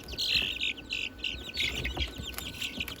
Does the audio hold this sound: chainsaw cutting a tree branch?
no